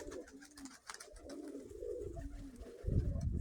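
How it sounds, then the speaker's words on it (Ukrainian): Pigeons cooing close by in soft, rolling low calls repeated several times, with some handling noise and a louder rumble near the end; no one speaks. "Голубочок цей постоянно."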